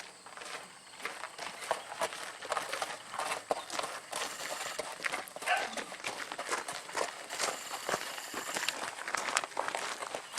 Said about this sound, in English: She's actually an interesting horse.